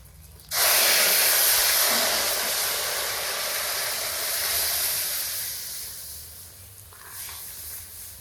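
Lentils are poured into hot tempering of bay leaf, dried chillies, five-spice and crushed ginger, bursting into a loud, close hiss that slowly fades over several seconds as the pot settles.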